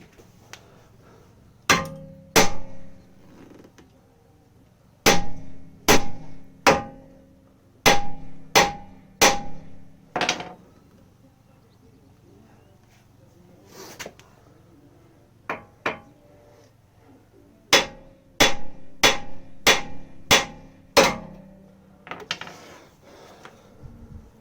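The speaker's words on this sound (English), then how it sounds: "I like to give the edge of the upright steel a whack" Hammer blows ringing off the steel suspension upright of a Mini Cooper R50 during a coilover fit: sharp metallic clangs in quick clusters of two to six, separated by pauses, close and loud.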